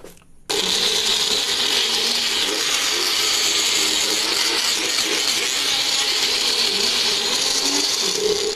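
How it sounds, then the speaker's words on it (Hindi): A mixer grinder blending a homemade protein shake whirs loudly and continuously after a brief quiet start, its motor running at a steady high pitch throughout. "इसको भी हम लोग अच्छे से मिक्सी कर देते हैं"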